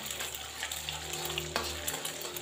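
A single egg scrambling in about three tablespoons of oil in a frying pan gives a quiet, steady sizzle. A faint spatula scrape comes midway through.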